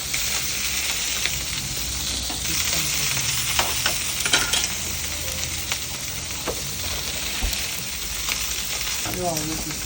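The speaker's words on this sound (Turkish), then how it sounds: "Bunları kızartacağım abi ekmekleri." Bread sizzles steadily in hot oil for kokoreç, a continuous crackling fry with occasional clinks and stirring scrapes mixed in.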